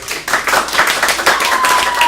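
Audience applause for test pilot Lt. Col. Kelly Latimer after a robotics team interview, a short burst of dense clapping from a small group, steady and fairly close throughout.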